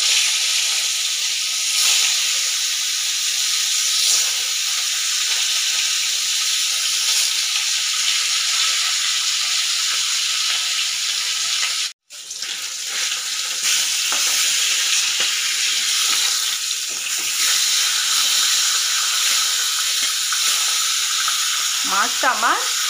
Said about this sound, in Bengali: মাছটা আমার হালকা করে ভেজে নিতে হবে